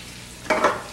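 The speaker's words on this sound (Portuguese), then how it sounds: "E aí começamos a sua fritura." Free-range chicken dropped into plenty of hot oil in a pan, a sudden close burst of sizzling and crackling that swells briefly after a quiet start.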